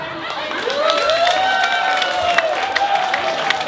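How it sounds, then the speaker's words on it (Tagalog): A live audience applauds and shouts for contestant number 1 at a comedy show in Vienna, a sustained wash of clapping and cheering with rising whoops over it. "Palakpakan sigawan sa number 1."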